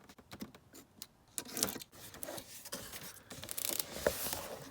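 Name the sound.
cutting open Boba Fett action figure packaging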